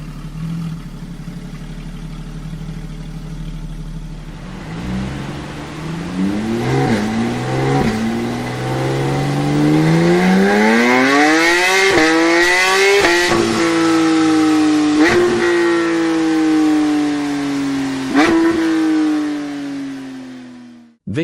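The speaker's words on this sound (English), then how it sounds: "Listen to the symphony of the GT3 RS," A Porsche GT3 RS sports car's exhaust revs loud and close, climbing through several rising gear pulls with sharp shifts and crackles before easing off near the end.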